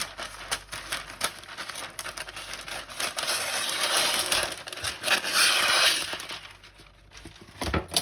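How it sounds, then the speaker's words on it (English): A large sheet of non-stick baking paper crinkles and rustles as it is pulled out, measured and sliced, giving a dense, dry crackling that swells in the middle and then fades, with no talking. "I'm just going to measure out a large sheet. I'm just going to slice, just going to cut there."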